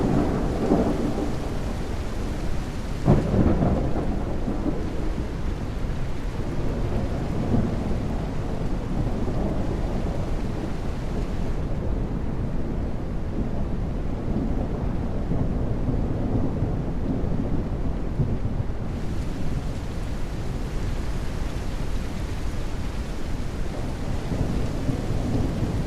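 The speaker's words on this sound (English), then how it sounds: "And the rain is getting worse." Heavy rain pours steadily in the video game Detective Rainy Night, with rolling thunder rumbling loud and continuous throughout and a sharper crack early on.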